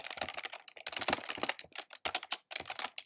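A name being typed on a computer keyboard, rapid bursts of crisp close key clicks in quick runs separated by short pauses, with no voices.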